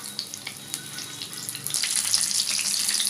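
Tomato pakoras slid into hot oil start to fry, a soft watery hiss that swells into a steady, louder sizzle with light crackles after the first second and a half, close by with no talk.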